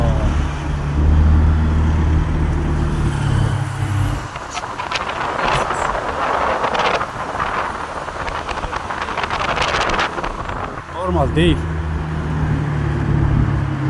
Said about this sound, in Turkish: Bak şu an rahatladı trafik.